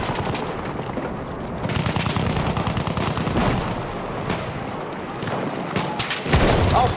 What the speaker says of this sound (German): Ein Maschinengewehr!